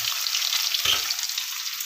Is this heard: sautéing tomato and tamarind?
yes